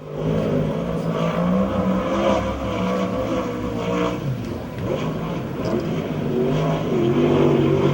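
USAC/CRA sprint cars roar around the Perris track, a loud, continuous engine drone that swells and fades slightly as the cars pass, with no break over the eight seconds.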